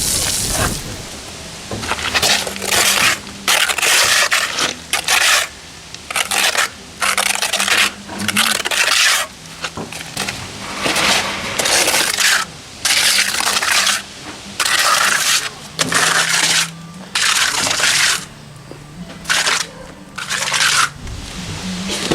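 A trowel or scratcher scrapes across a fresh stucco scratch coat on a wall under repair, giving a steady run of close, loud, rasping strokes in an uneven rhythm, with short pauses between the passes.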